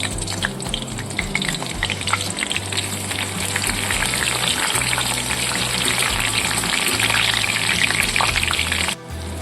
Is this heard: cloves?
yes